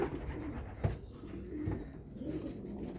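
Racing pigeons in a Szczecin loft give low rolling coos, several birds overlapping in a steady background chorus with a brief flutter or knock midway, no voices.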